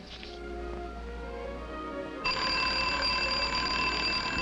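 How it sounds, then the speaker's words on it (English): An alarm clock rings: after a couple of seconds of quiet tones, a loud, continuous bright metallic ringing starts abruptly and holds steady. "she got up when the alarm went off"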